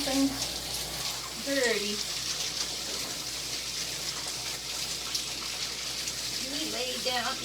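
Water streams steadily while shampoo is rinsed off a dog, a continuous hissing splash close by, with a person speaking briefly at the start and again near the end.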